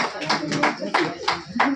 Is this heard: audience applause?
yes